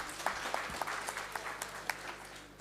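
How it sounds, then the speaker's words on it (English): Applause from an audience at a dispute resolution awards event, moderate and somewhat distant, a soft wash of clapping with a few sharper individual claps standing out. "Yes, please give her a clap."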